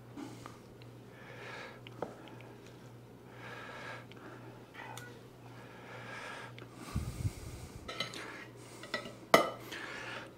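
Tender slow cooker pot roast is served onto a plate with cutlery and dishes: scattered clinks, scrapes and soft squishy sounds over a low steady hum, with a louder clatter near the end.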